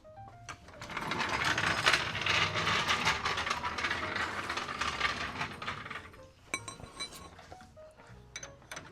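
A ratchet tightens bolts on the transmission of a 1929 Ford Model A roadster. Rapid clicking pawl strokes come in bursts, close and fairly faint, with short pauses and a few separate clicks near the end.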